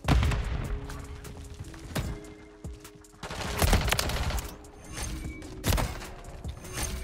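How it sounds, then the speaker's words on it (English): Gunfire from Call of Duty Modern Warfare 3, played with a Striker 9 loadout, comes as loud repeated bursts of automatic shots and heavy thuds with short gaps, close and dominating the mix. "Where am I getting shot from?"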